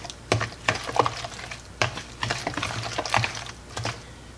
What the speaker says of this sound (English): I'm going to give that stuff a stir.